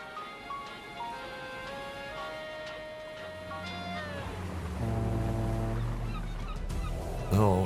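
Seagull cries and honking bird calls in the ship simulation game Seafarer: The Ship Sim, sounding alone with no talk as several drawn-out tonal squawks. Toward the end a low, steady droning game sound joins in.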